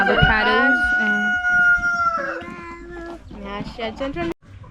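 Farm chickens crowing and clucking at close range on a countryside farm outside Nairobi, with a long rooster crow followed by several shorter calls and faint background voices.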